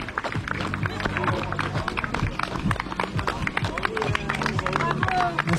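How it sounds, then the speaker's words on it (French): Spectators clap for runners arriving at the finish of a 100-mile ultra trail race in southern France, a steady crowd applause close by with cheering voices and chatter mixed in. "Applaudissements, yes!"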